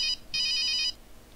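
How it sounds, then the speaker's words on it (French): A telephone rings in the video game The Curse of Plum Mountain: a short electronic trill, a pause, then a longer ringing burst before fading, alone and fairly loud. "Ah, bah voilà, téléphone."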